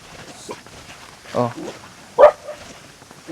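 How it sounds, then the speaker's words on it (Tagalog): A dog gives a few short barks and yips close by, two distinct bursts over a quiet background, with a person speaking faintly in between. "Kumakahol yung aso"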